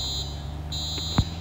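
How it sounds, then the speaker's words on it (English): School fire alarm in the Roblox game Brookhaven: a shrill, steady electronic tone sounds, cuts out briefly and resumes, with a faint thump near the end. "Fire alarm added to school."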